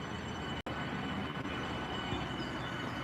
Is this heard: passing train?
yes